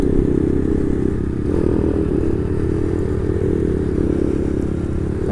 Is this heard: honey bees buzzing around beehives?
no